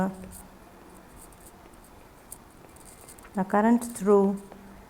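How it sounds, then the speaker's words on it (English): Faint, soft scratching of a pen writing the result of a circuit problem on a board, continuing quietly for several seconds before a short burst of a voice near the end. "Now we will write the result."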